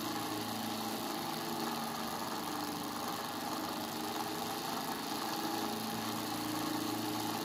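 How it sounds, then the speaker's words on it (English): High-torque BLDC electric motor running steadily on a bench power supply, a faint continuous hum and whir with no change in level throughout, and nobody speaking. "motor is going to run."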